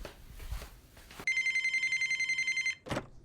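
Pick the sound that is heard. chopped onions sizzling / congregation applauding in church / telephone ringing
telephone ringing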